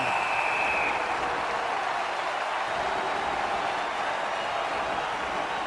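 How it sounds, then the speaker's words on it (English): Standing ovation from a Buffalo hockey crowd for their goaltender during a preseason game against Québec, heard as a broad, steady wash of applause and crowd noise filling a large arena for several seconds. "And a standing ovation by the Buffalo crowd for their goaltender."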